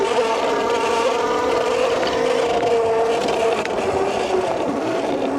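A MEGAWHEELS D2 48-volt electric dirt bike being ridden, giving a steady, loud whine with road or wind noise and no pauses.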